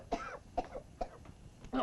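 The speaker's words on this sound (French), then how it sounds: "Je tousse, c'est la fumée." A man coughs from smoke, about four short harsh bursts spaced roughly half a second apart, close and fairly quiet, with no talking.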